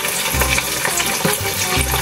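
Loud, close frying of chicken with a dense sizzle and scattered sharp pops and crackles of hot oil, continuous throughout.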